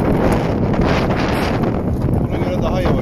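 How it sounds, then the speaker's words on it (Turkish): Strong wind buffets the microphone on a sailboat heading into the wind, a constant loud rumbling roar throughout, while a person talks underneath it. "Şu anda rüzgara karşı gidiyoruz"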